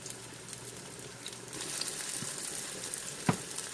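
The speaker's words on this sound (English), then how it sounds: "I'm going to go ahead and fry these" Breaded tofu pieces fry in a pan with a soft, steady sizzle and light crackle, faint and close, with a brief clatter near the end.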